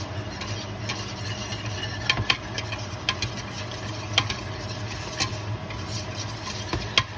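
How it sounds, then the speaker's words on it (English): Flour is stirred into melted butter in a pan to make a roux for Thanksgiving dinner, a soft scraping and swishing under a low sizzle with intermittent spoon clicks against the pan, close and without talk. "flour, stir it in."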